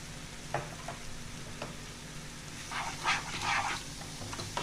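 Spice masala of Kashmiri chili and coriander powder is stirred and fried in a pan for a Bengali paneer masala, with a steady soft sizzle broken by scraping strokes of a spoon, louder bursts of stirring near the end.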